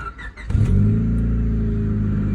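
A Honda Civic running with no muffler, its engine catching and settling into a loud, close, rumbling idle with a slightly raspy exhaust note after a brief start.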